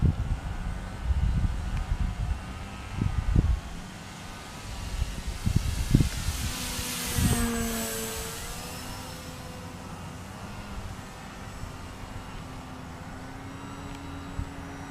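An E-Flite Timber RC plane circles over a river in the early morning, its small electric motor whining as a thin rising and falling tone, with breezy outdoor rumble and a few low thumps early on.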